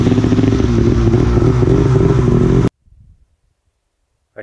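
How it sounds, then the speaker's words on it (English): Snowmobile engines running in deep snow in the mountains of British Columbia, a loud, close, steady mechanical roar that cuts off abruptly partway through, followed by faint low rumbles and near silence. "I can hear snowmobiles."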